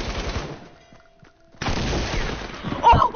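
Gunfire bursts from a shooter video game, a dense stretch of shots, then a quiet gap, then heavy firing resuming loudly with sharp ringing impacts near the end.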